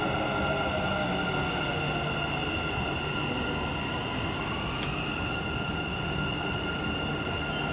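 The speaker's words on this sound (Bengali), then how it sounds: "এই যে আমারও মেট্রো চলে আসতেছে" A Dubai Metro train pulls into the station with a steady, loud rumble of wheels and a sustained high-pitched whine throughout.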